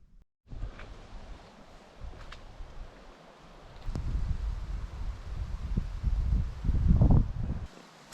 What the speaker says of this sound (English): it's a windy morning this morning